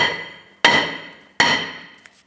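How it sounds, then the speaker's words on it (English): A hammer taps the back side of a seized brake rotor on a 2005-2010 Chrysler 300: two sharp, ringing metallic strikes close up, each decaying over about half a second, followed by a faint light knock. "I'm going to go ahead and tap the back side of the rotor to try and work this off."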